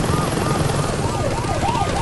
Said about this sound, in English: I can't even see the damn helicopter.